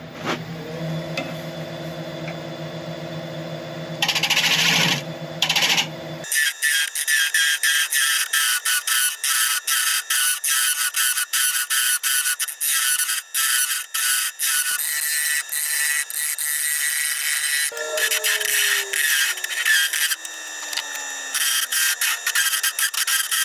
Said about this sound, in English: This is a Hope hollowing tool